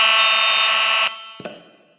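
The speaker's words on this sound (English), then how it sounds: "somebody could just be pulling the fire alarm over there" A loud, piercing fire alarm shrieks steadily at close range, then stops abruptly, followed by a couple of short clunks and quiet.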